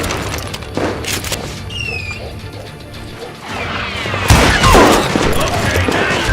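Gunfire rattles in the Call of Juarez video game: scattered shots and impacts early, then a loud, dense burst of rapid fire and crashing in the second half.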